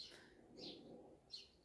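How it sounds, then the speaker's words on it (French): Birds chirp outdoors in three short, high calls spaced about half a second apart, faint and distant over quiet background noise. "Pour écouter les oiseaux."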